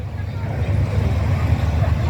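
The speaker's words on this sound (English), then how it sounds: "Beautiful motor. Just listen at that." A Land Rover engine runs at a steam rally, a steady, close, low rumble that holds evenly throughout, with faint crowd chatter in the background.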